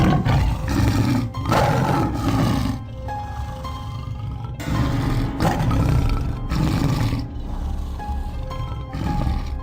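A tiger roars in a deep, sustained, rumbling growl that swells and fades in long waves, loud and close, with no talk over it.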